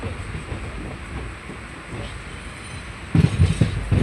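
A train passing at Shoranur railway junction, a continuous rumble of wheels on rails with rhythmic clacking that grows louder toward the end, heard alone without speech.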